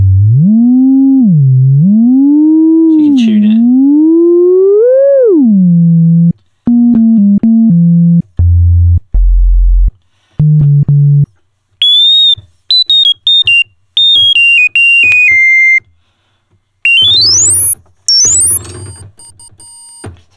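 Novation Bass Station 2 synthesizer with its oscillators removed and the low-pass filter self-oscillating, giving pure whistling sine tones that glide and wobble from low to very high, stepping through short held notes, loud and alone.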